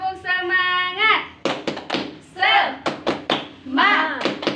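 Schoolchildren in a classroom doing a rhythmic spirit clap, rapid patterned claps in short bursts alternating with children chanting together, led by a teacher's voice at the start.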